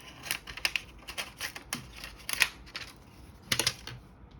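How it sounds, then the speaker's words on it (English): Scissors snip excess vinyl in a crafting setup, a series of crisp, close cutting clicks and slides in irregular bursts with quiet pauses between. "just go ahead and cut this excess off so that I can have it out the way"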